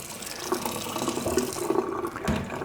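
Mushrooms are rinsed under running tap water, a steady close splashing stream with small irregular spatters and bumps as they are tossed about.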